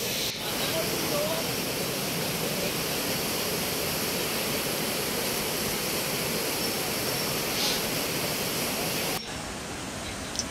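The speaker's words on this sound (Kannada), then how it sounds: "ಇದು ಬೆಟ್ಟದ ಮೇಲೆ ಫಾಲ್ಸ್ ಇದೆ ಇದು" A hillside waterfall roars as a steady, loud broadband rush throughout, with a brief drop near the end.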